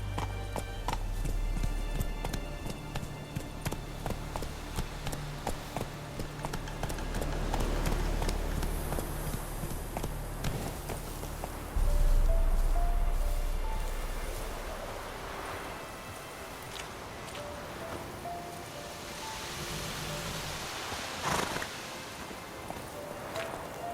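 In The Witcher 3: Wild Hunt, a horse gallops with rapid, rhythmic hoofbeats, first steady and close, then surging and fading, with a brief whinny and soft ambient noise.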